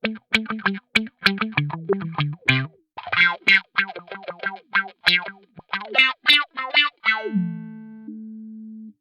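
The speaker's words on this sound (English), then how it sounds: "The touch wah is really, really cool too." Electric guitar played through the touch wah of a BOSS MD-500 modulation pedal, quick staccato picked notes each with a vocal-like filter sweep, a rhythmic funky run ending on one sustained note that quacks then holds, no talking.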